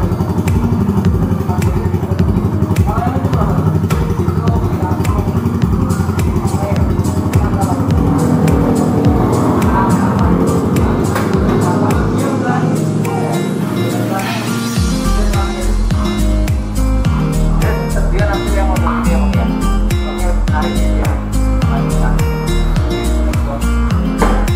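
A single-cylinder motorcycle, still in standard condition, runs loud and close with a steady thumping beat that changes pitch partway through as the revs shift. People talk over it.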